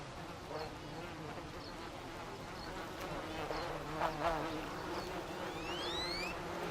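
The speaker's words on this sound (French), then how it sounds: "J'ai vu beaucoup d'abeilles." Bees swarm around a tree, a dense continuous buzzing hum of many insects at moderate distance, with individual bees flying past closer now and then.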